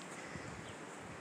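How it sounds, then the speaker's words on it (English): Steady wind blows outdoors beside an apartment building, a continuous broadband rush with no breaks or gusts standing out, close to the microphone and filling the whole moment. "It is windy."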